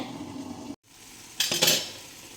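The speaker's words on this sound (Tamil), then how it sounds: "இதை இப்போ நான் மூடி போட்டு மூடி விடுறேன்" A lid set down on a cooking pot of sweet poha kesari: a brief metallic clink and rattle after a moment of quiet, over a soft sizzle from the stove.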